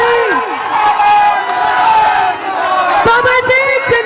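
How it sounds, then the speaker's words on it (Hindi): A crowd at a political election rally for the Karakat Lok Sabha constituency erupts with loud cheering, whoops and shouts over a strong amplified voice, energetic and continuous throughout. "जोरदार ताली"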